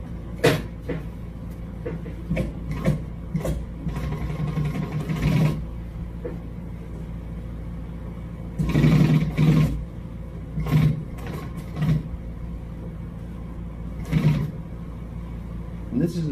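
Sewing machine stitching a leather cafe racer motorcycle seat cover, with short bursts of mechanical whirring and clacking separated by pauses, fairly close, alongside handling noises.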